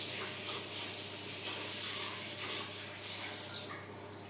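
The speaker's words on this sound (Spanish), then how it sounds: "me lavo las manos para aclararme esto" Tap water runs steadily as hands are washed under it in a home kitchen while baking an egg-white sponge cake, a continuous hissing splash lasting throughout with no talk.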